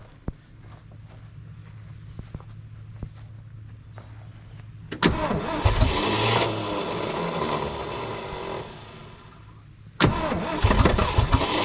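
An old Ford truck engine, left sitting for more than 20 years, cranks and fires into a loud rough run for several seconds, then stops, and after a short quiet it cranks again with a sharp burst.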